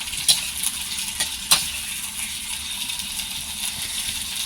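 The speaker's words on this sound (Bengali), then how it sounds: "এবার এটা একটু নাড়িয়ে দেবো, এটাই গ্রেভি গ্রেভি হয়ে যাবে।" Gravy being stirred in a cooking pot for a vegetarian young jackfruit dish, a soft continuous sizzle with a few sharp scraping clicks of the spoon against the pot.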